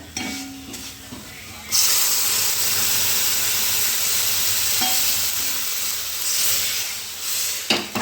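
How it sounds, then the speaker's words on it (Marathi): Milk poured into a hot pan of rice-grit kheer cooking on the stove, a sudden loud hiss and bubbling sizzle that kicks in after a quiet start and holds steady, easing briefly near the end. "यामध्ये दूध टाकायचं आहे आपल्याला"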